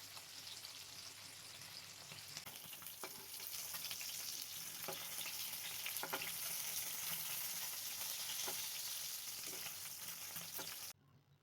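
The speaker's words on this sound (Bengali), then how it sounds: "এবার মাছগুলোকে ভেজে নেব।" Bata fish, cleaned and rubbed with salt and turmeric, frying in hot mustard oil, a continuous crackling sizzle with sporadic pops that cuts off abruptly near the end, no speech.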